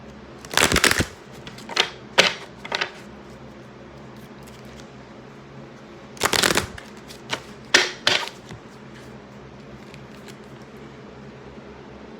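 Advice cards shuffled in several short bursts of riffling, two longer flurries and a few quick snaps spread across a quiet room, close and crisp with no talking.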